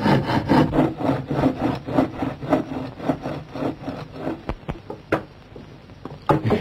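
A hand saw cuts through wood in a film scene, with rhythmic back-and-forth rasping strokes that are loud and close, then slows into a few sharp knocks and scrapes.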